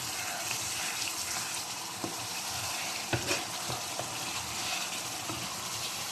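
Chicken karahi fries in a pan, making a dense, even sizzle that fills the whole clip, with a few faint stirring taps and no speech.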